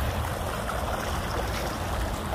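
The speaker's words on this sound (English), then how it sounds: "No matter how fast the water runs to the lowest point." Steady running water pours into a Washington, D.C. storm drain, a continuous close gurgling trickle with no voices.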